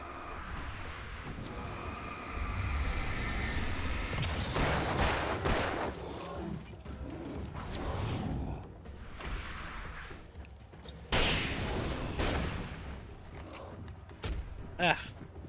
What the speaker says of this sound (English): Oh, I threw a flashbang,